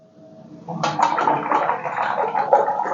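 A watercolour paintbrush is swished in a container of water, a close burst of sloshing and splashing that starts suddenly and keeps churning for a couple of seconds.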